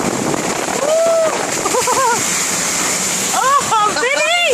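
Deep floodwater in a Grand Forks flood rushes with a steady, close broadband roar and splashing, while excited voices shout and whoop over it.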